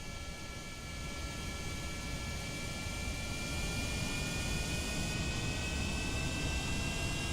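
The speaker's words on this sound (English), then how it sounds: "I'm going to get up to really as high as I can get this this plane" A jet plane climbing in Kerbal Space Program roars with a steady, broad engine drone and faint high whine that holds constant and slightly swells for several seconds, with no talk over it.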